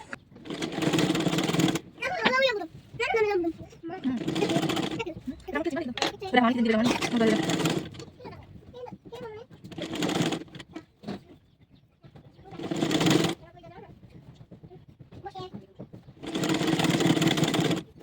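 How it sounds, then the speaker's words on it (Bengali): An electric sewing machine stitches a hijab in several loud whirring runs of a second or two each, separated by pauses where someone talks quietly. "প্রথম পাশ সেলাই করা হয়ে গেছে, এখন আমি দ্বিতীয় পাশ সেলাই করতেছি"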